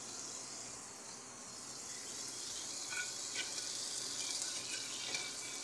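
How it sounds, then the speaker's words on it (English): Food frying in a hot pan, around three minutes in before being flipped, gives off a continuous soft sizzle with scattered small pops and crackles that grow slightly busier toward the end. "we're about 3 minutes into the frying and we're going to flip it over"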